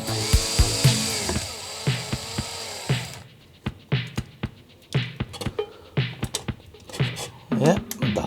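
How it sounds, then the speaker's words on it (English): A larger bit drills into a plastic computer case for a retro Mini-ITX build, starting with a sustained whir and then breaking into short, irregular bursts of bit contact, close by, with faint talk between them. "I'm just gonna drill a little bit with a larger drill bit here"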